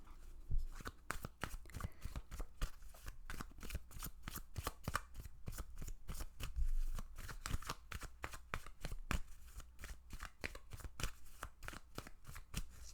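Tarot cards are shuffled by hand in a long, quiet run of quick, papery slaps and riffles, close to the listener and with no talking.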